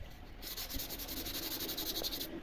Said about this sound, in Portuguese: Não dá para lixar muito forte, porque você vai acabar tirando, ó, boa parte do tingidor